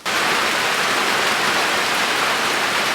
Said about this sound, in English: it's starting to rain, so camera's going away